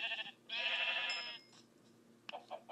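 A Minecraft sheep gives a single drawn-out bleat, fairly faint, followed by a couple of short clicky game sounds and no speech.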